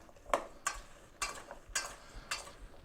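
A spoon scrapes and clinks through squash and sprouts seasoned with olive oil, salt, pepper and garlic, making five separate mixing strokes at a steady pace, close and fairly quiet.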